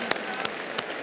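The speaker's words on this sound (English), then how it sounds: "give yourselves a big round of applause, everybody." Course participants clap for themselves, a brief, soft patter of clapping with a few sharper individual claps standing out, heard from a distance.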